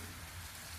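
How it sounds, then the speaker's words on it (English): Rain falls steadily in a dense, even hiss with no breaks, close and fairly loud, with no voices over it. "it sounds like the rain's coming back in again"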